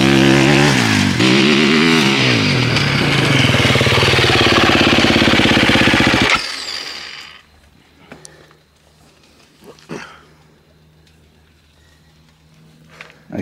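A KTM EXC 2024 dirt bike engine roars loud and close for about six seconds, revving up and down, then cuts off abruptly, leaving a quiet stretch with faint, scattered knocks.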